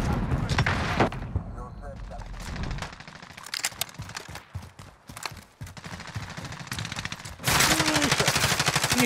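Rapid bursts of automatic gunfire in a multiplayer shooter game, played with the SP-R, crackle loud and close with dense rattling volleys, broken by quieter gaps and a voice speaking over the action.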